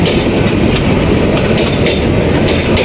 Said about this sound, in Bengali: এই মুহূর্তে আমরা দেখতে পাচ্ছি একটি ট্রেন আসতেছে